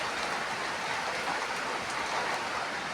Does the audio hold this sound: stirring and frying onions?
no